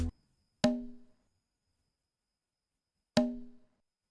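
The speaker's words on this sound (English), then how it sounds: "It's a Congo." A conga drum sample in FL Studio rings out as two clear, resonant tonal hits about two and a half seconds apart, each with a short decaying ring, alone and close.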